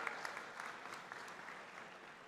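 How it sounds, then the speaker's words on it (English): An audience at a live student parliament event applauds, a dense, even patter of many hands clapping that stays faint and distant throughout. "I request everyone you to give a big round of applause Sri Rahul Vikrad and his vision for Bharat."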